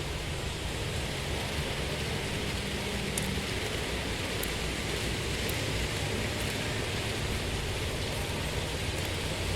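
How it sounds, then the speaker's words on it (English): Heavy rain pours steadily in a video game, a dense unbroken hiss with no talk over it. "Raining real heavy."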